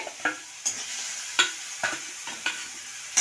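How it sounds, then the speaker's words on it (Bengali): Ground spice paste of onion, garlic, cumin, salt, turmeric and green chilli sizzles in a pan while a spoon scrapes and stirs it in sharp, irregular strokes about every half second. "সুন্দর সুন্দর আমার এই মশলা কষানো হয়ে গেছে"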